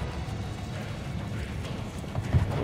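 Horse hooves clip-clopping in the Assassin's Creed Brotherhood video game, a continuous quick trot of muffled hoofbeats at moderate loudness with a low rumbling game background.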